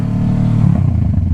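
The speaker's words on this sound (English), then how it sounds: "Oh, that burble, it sounds so nice." Motorcycle exhaust burbling at low revs, a loud, close, uneven rumble with a throaty pulsing rhythm that swells slightly midway and stays steady throughout.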